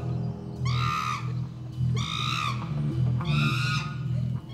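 Chimpanzees scream in three loud, separate bursts of high shrieks, each lasting about half a second, above a steady low background hum.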